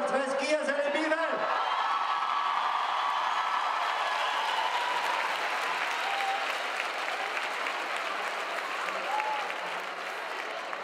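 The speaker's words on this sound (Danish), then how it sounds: "Giv os alle bifald!" Applause from an audience of over a thousand festively dressed women at a Danish ladies' lunch at the Dølle market, a dense sustained wash of clapping that starts after a brief voice and rolls on steadily, gradually easing.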